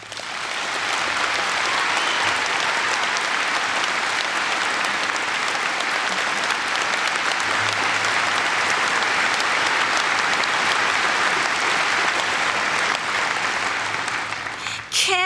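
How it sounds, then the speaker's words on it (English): Sustained audience applause at a university event for a presidential speech in Nebraska, a dense, steady wash of clapping that fills the hall for about fifteen seconds before tapering at the very end. "You may applaud."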